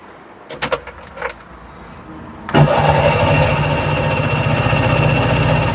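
A tuk-tuk engine with its carburetor under inspection is cranked after a few metallic clicks and rattles, then catches into a loud, steady, rapidly pulsing run close by.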